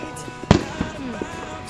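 Firework cannons going off at a backyard fireworks show, one sharp loud boom standing out among smaller distant pops and crackles.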